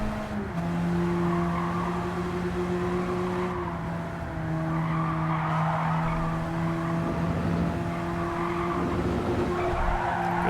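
Tyres on a Honda Beat kei car squeal and skid steadily over a constant engine drone during a Nürburgring time trial in Gran Turismo 7, loud and continuous with no talk.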